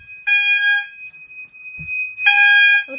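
An SER Safety mass notification fire alarm sounds during a system test: a steady high electronic tone runs throughout while two loud buzzing tone bursts come and go, with a brief low thump between them.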